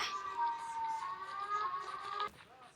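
A Siren Head siren in a video game: a loud, sustained wailing tone with steady harmonic layers that holds for over two seconds and then cuts off abruptly.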